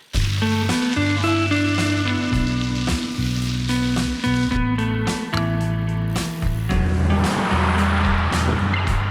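A car drives through Warsaw, heard from inside as a loud, steady engine and road drone with shifting tonal hums, no talking.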